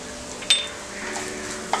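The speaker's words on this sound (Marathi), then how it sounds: "फुल गॅसवर आता हे परतून घेऊया।" Carrots with ginger and garlic stir-fried in a pan over full gas heat, giving a quiet, steady sizzle with two sharp scraping clinks of a spatula against the pan, no voices.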